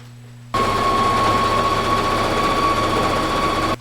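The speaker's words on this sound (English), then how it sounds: "line up these two seams at the bottom in the crotch, and then sew down the legs." A sewing machine stitches down the legs of leggings, starting abruptly and running in one fast, steady, loud burst of rapid needle chatter with a motor whine for about three seconds before stopping.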